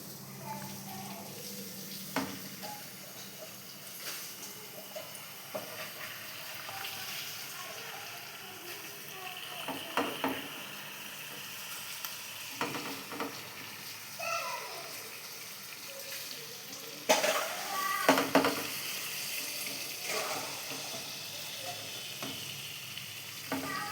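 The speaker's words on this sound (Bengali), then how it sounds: "এই মশলার সাথে কই মাছটা ভাজা হবে" Raw koi fish sizzle steadily in hot oil with onion, garlic, ginger and spices, with occasional stirring and pressing clatters punctuating the constant frying hiss.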